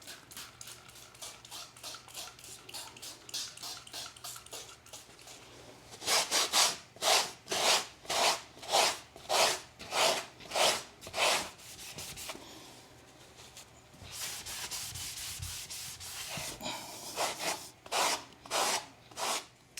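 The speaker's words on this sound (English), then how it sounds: "I'm going to start cleaning those." Dirty door sills being scrubbed clean inside a barndominium, a brush rubbing back and forth in steady rhythmic strokes, close and fairly loud, with quieter stretches of lighter scrubbing between bursts of vigorous strokes.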